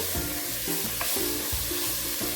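Ginger and garlic being stirred in a frying pan for a coconut chicken curry, with a steady sizzle and a few soft scraping strokes of the spoon, close and alone.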